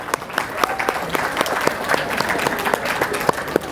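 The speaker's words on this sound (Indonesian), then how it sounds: "Mari kita berikan tepuk tangan yang meriah." Applause from a school audience at a Year 12 handover ceremony, scattered individual claps standing out over a continuous murmur of crowd noise, fairly close and loud.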